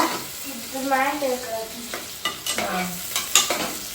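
Onions frying in a pan while being stirred: a steady, close sizzle with scraping stir strokes, plus a brief tonal whine partway through.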